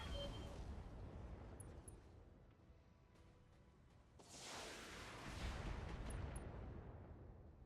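Mech weapons in the BattleTech video game firing on several targets at once: a sustained, rumbling barrage of gunfire and blasts, dipping briefly before a second loud, broad surge of fire, with no talking.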